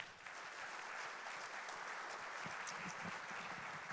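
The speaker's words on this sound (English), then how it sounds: "Please give them a round of applause" Steady, even applause from a conference audience thanking a panel on the productivity gap, a dense wash of clapping heard alone and at a distance, faint throughout.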